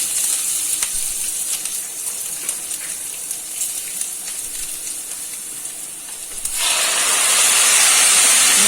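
A loud, steady sizzle of tomatoes frying in a hot pan with onions, the hiss swelling brighter and stronger near the end, with no talking.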